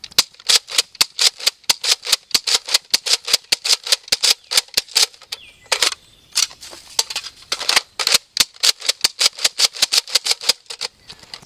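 Nerf Elite Alpha-Trooper foam-dart blaster firing: dozens of sharp, close snapping shots in a fast, steady rhythm, with a brief pause midway before the volley resumes.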